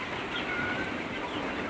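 Chickens cluck softly while eating feed, a quiet scatter of short calls over a low farmyard hum.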